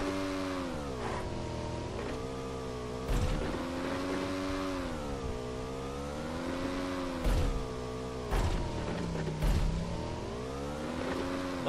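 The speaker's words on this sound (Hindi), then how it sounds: "बाइक की आवाज आती है साइड में" A motorbike engine in the video game PUBG Lite drones steadily, its pitch rising and falling as it revs and shifts, with a few sharp transient hits along the way; the sound is moderately loud and continuous throughout.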